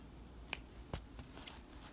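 A few quiet, crisp snips of scissors trimming sewing threads on a welt pocket, spaced out over a couple of seconds, close by in a still room.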